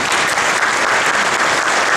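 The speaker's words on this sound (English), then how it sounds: "let's give them a round of applause" An audience claps in a dense, continuous burst at a high school 100th anniversary ceremony, many hands blending into an even wash of applause.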